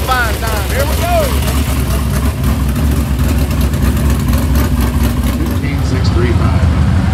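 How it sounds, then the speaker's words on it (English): A race car engine runs before qualifying at Adams County, loud and close, a continuous rumbling drone with uneven revving and no letup. "Got some heat going in the engine."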